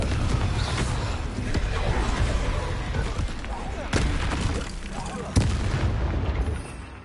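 Incendio and Confringo fire spells cast in Hogwarts Legacy: continuous roaring crackle of flames with several sharp blasts breaking through, fairly loud and close, with a voice briefly over it.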